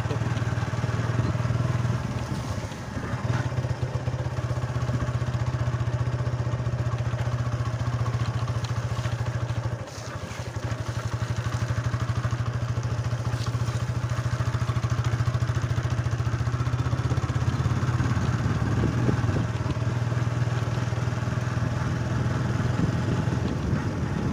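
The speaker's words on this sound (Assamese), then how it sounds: "দাদাৰ বাইকত উঠি গৈ আছোঁ" A motorcycle carries riders along a village road, its engine a steady, loud, unbroken drone with rattles and wind throughout, dipping briefly once before resuming.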